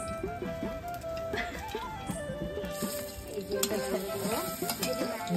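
Onions and marinated meat frying in oil on a clay stove in a village kitchen, a steady sizzle with stirring scrapes underneath, while voices talk over it throughout.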